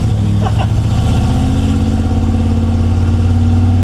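Ford F100 pickup engine running loud and close with a Tremec 5-speed manual gearbox, a steady low drone that holds its pitch as the truck is shifted down toward first gear.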